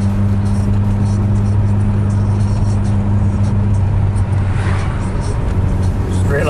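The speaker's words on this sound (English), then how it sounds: "This is just this annoying car." A car with a steady, loud engine drone, probably heard from inside or close by, holding a constant tone throughout with no clear pass-by swell.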